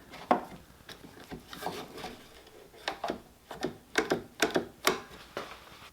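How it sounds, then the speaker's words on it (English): A clamp being fitted over a wooden block and shim on a table saw jig produces a series of close wooden knocks and rubbing scrapes, irregular but growing denser toward the end. "I've got a shim which should be thin enough to offset the discrepancy in the angle, and then I'll throw a clamp on it for safety"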